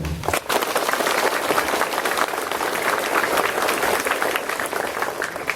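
Students at a junior high school ceremony in Bandung break into a steady round of applause after a brief pause, dense continuous clapping holding at an even level throughout.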